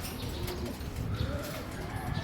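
A racing pigeon arrives after a training toss in Concepcion, Tarlac, with cooing and flapping wings under steady outdoor ambience, moderately close.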